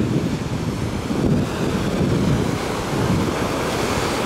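Sea waves roll and break onto a hotel beach in Alanya, Turkey, a steady broadband wash of surf with gusts of wind buffeting the microphone, fairly loud and continuous.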